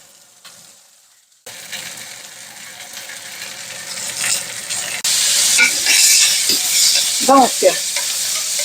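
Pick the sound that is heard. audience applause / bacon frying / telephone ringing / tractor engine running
bacon frying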